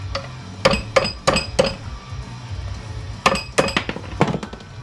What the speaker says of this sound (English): I like to break the ferrite donut.